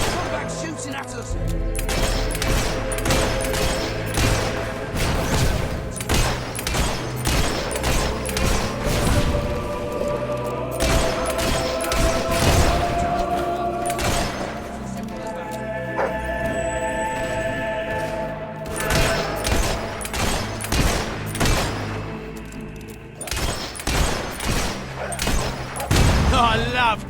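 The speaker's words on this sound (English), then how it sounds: "Keep your heads down, boys! Come back shooting at us!" Gunfire in the video game Fable 3: repeated sharp shots and thumping blasts in irregular clusters throughout a long battle, loud and close, with voices and game music running underneath.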